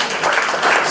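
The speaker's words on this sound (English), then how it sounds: "So give applause again to Professor Lee" An audience claps for Professor Lee after a talk at a UNESCO event in Tangerang Selatan, a short burst of dense, even applause that fills the room without any voices.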